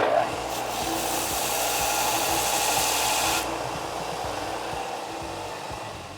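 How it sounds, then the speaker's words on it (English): A bench grinder grinds a large steel burr off a part for a 45 mph electric go-kart, giving a loud, steady abrasive whine. It is brighter and harsher at first, then eases to a slightly softer grind partway through. "I'm putting it on the grinder."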